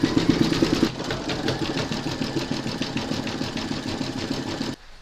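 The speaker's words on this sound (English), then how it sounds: "you're going to stitch round number 9, and that's going to do the satin stitching around the wings" An embroidery machine runs satin stitching around owl applique wings with a fast, even mechanical chatter of rapid needle strokes that holds steady and then cuts off just before the end.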